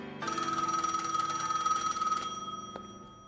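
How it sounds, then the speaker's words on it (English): A telephone bell rings loudly and steadily for about two seconds in one sustained electronic trill, then cuts off, followed by a brief click. "The phone rings"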